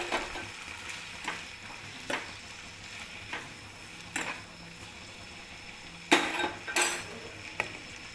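A spoon scrapes and clinks against a pan in several separate strokes over a soft, steady frying sizzle as ground paste and salt are stirred into a broad-bean curry, with no talking.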